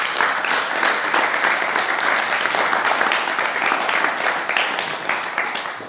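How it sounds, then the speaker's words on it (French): A church congregation applauds for the Lord, a dense, steady wash of clapping that holds for the full stretch at close range, with faint voices mixed in. "Applaudissons pour le Seigneur."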